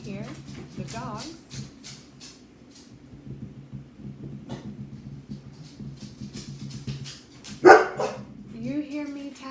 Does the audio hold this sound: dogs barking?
yes